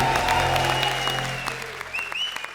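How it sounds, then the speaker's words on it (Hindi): Studio audience applause on the Comedy Circus ke Mahabali comedy show rings out over tonal music, starting fairly full and thinning to scattered claps as it fades. "जोरदार तालियां"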